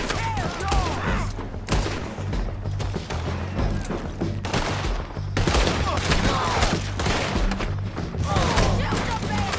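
Gunfire in Red Dead Redemption 2 during a bridge shootout: loud, dense volleys of rifle and pistol shots with heavy thuds, nearly continuous for the whole stretch, with voices shouting amid the barrage.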